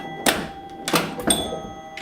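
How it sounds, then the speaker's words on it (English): A Star Light pinball machine, fitted with six chimes and a bell, sounds three loud ringing chime strikes in quick, uneven succession, each tone lingering and decaying, with no talking. "In addition to the 6 chimes, there is also a bell in this thing."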